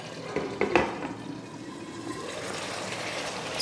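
Non-vegetarian gravy simmering in a pan with oil starting to separate, giving a steady watery bubbling wash with a few brief louder pops early on, close and continuous with no talking.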